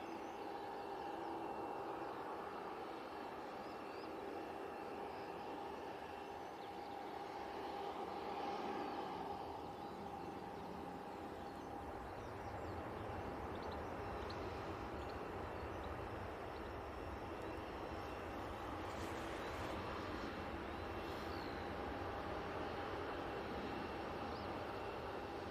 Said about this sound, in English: Etihad 787-9 Dreamliner coming in from Abu Dhabi. It's about to touch down on 23 right.